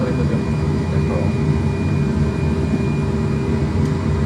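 A steady, loud jet engine drone from an A320 in a flight simulator holds at constant power, a dense low rumble with a faint tonal whine and no break throughout.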